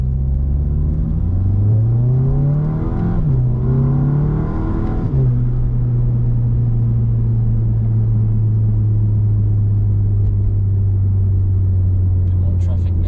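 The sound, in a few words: VW MK7 GTI engine droning at 3,000 RPM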